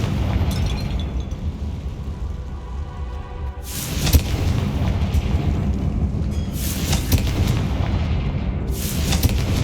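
Fiery Confringo spell blasts go off in the video game Hogwarts Legacy as several booming bursts, each cracking loudly and then rumbling, over a constant low game soundscape.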